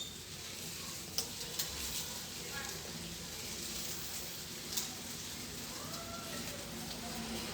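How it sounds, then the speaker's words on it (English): Crackling sizzle of cabbage and bacon frying in a hot wok, a continuous hiss with a few sharp clinks of a utensil stirring. "let's get all of this into our wok or into our frying pan and let it start frying."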